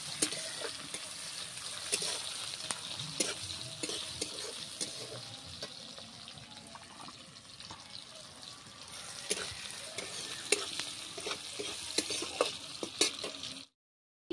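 Panch phoron, the Bengali five-spice mix, crackling in hot oil, a close sizzle with scattered pops and spoon clicks against the pan, fairly quiet overall and ending suddenly near the end.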